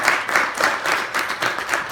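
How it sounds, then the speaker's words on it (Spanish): A church congregation claps together in sustained applause, a dense, fairly even patter of many hands heard close and alone, with no talking over it. "Démosle un fuerte aplauso al Señor"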